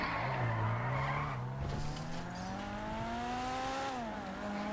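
A car skidding in the video game GTA, with a long sustained tire squeal whose pitch slides up and down over a rumbling engine, loud and continuous throughout.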